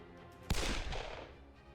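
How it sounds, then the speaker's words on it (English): A single gunshot in the video game Hakuoki: a sharp, loud crack followed by a reverberant, slowly decaying tail, heard alone. "Sakamoto quickly reached for his gun and he pulled the trigger."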